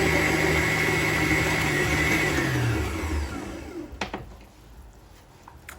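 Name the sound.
stand mixer kneading chocolate vanilla brioche dough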